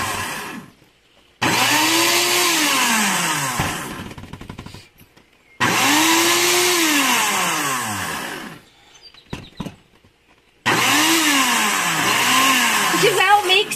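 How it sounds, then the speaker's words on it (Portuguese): A blender whirs loudly in three separate pulses of several seconds each, its motor pitch rising and dipping, with short quiet gaps and faint clatter between, mixing homemade aloe vera hair conditioner. "vai pulsando aí o seu liquidificador"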